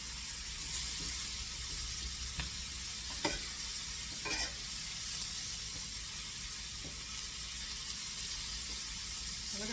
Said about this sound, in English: So we're going to saute these for a bit.